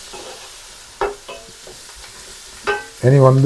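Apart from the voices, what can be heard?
curry leaves and onions sautéing in pan for mutton curry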